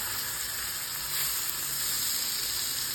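Fish pieces for fish curry sizzling in a hot pan for about thirty seconds, a loud, steady, dense hiss close up, unbroken and with no voices.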